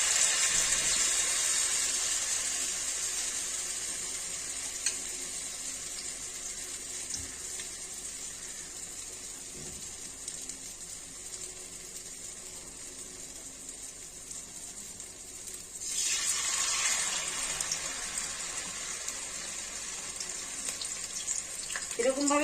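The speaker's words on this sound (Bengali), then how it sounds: "তেল গরম হয়ে গেছে, আমি এখন একটা দুটো করে দিয়ে দিয়ে ভাজবো।" Pumpkin leaf fritters deep frying in hot oil give a steady, fairly loud hiss and crackle throughout, with a brief surge of sizzling near the end as more fritters drop into the pan.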